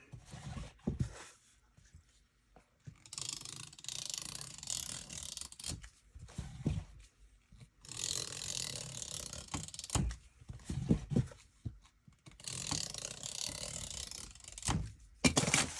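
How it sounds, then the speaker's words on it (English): Glue tape dispenser run along the back of a thrifted furniture piece during an upcycling project, repeated ratcheting, clicky mechanical passes of a few seconds each, separated by short pauses, close and fairly clear. "So I have this glue tape and some craft paper, and I am just gonna run this along here."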